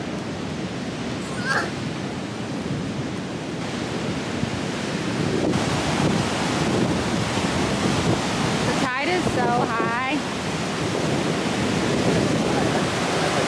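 Rough ocean waves wash onto a beach right outside a beachfront cabana suite, making a steady, loud broadband roar with some wind noise throughout and a brief higher chirping sound near the end.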